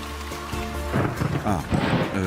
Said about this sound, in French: en cas d'orage ou de forte pluie